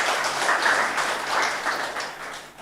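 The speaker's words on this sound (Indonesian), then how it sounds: "Tepuk tangan bagi Tuhan Yesus." Church congregation applauding during an Indonesian Sunday worship service, a steady wash of many hands clapping that holds throughout and swells slightly at the end.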